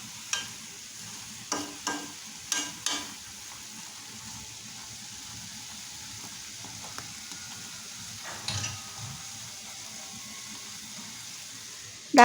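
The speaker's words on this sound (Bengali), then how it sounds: "এখন নেড়ে চেড়ে আমি কিছুক্ষণ রান্না করব।" Brinjal cooks in a pan and is stirred in short bursts, with a cluster of quick scraping strokes early on and another brief scrape later, over a faint low sizzle and otherwise quiet pauses.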